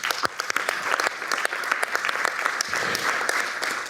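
Audience applause for speakers at a French public procurement forum, a steady mass of clapping hands with crisp individual claps standing out, continuous throughout.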